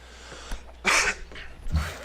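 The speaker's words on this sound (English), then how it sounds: "There you have me clearing my throat again." A man clears his throat in a short, harsh rasp, then gives a lower, softer follow-up hack a moment later, close and alone against quiet.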